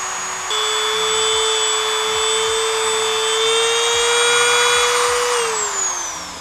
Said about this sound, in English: I'm gonna use a wire, like kind of like a wire wheel, just to kind of get the paint off and stuff.